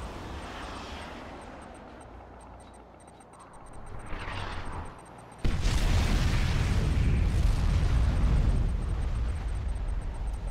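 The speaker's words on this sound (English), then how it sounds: "Nuclear missile launched." Nuclear missile detonation in the Command & Conquer 3: Kane's Wrath strategy game, a rising whoosh followed by a sudden massive blast and a loud sustained rumbling roar that lasts for several seconds.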